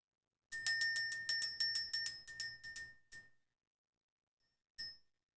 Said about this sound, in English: Let's ring the bell, clear the energy